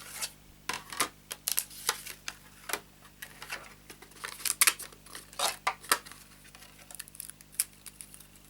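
Paper trimmer slicing vellum cardstock for a sympathy card, a close, quiet series of crisp clicks and scratchy cutting strokes in an irregular rhythm.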